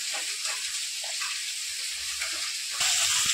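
Mrigal fish pieces fry in hot oil for a Bengali fish curry, giving a loud, continuous close-up sizzle that grows slightly stronger at the end.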